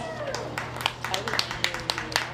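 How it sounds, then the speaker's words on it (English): Scattered hand claps ring out at an outdoor Sheridan County Fair livestock show, sparse and uneven over a steady low hum, with voices murmuring in the background. "applause."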